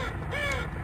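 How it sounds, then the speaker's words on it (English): A single crow caws once, clear and fairly close, in the dark opening of the Nightmare House 2 horror game, over a low ambient hum. "Crows do not come out at night."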